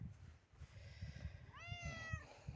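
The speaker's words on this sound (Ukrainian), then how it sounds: "Подивіться, які в мене гарні котики." A single clear cat meow rises and falls midway through, over a low, rumbling background with no talking.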